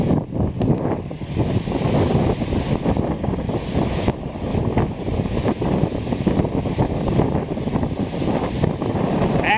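Waves wash onto a Lake Superior beach at 12 Mile Beach, a loud, continuous surging roar mixed with heavy wind buffeting the microphone, no voices.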